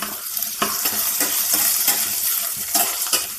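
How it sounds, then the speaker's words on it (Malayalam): Onions sautéing with curry leaves in a pan give a steady, close sizzle, broken by several light clicks and scrapes of stirring. "സവാള ഒന്ന് വഴന്ന് കിട്ടട്ടെ. ഒപ്പം തന്നെ കറിവേപ്പില ഇടാം."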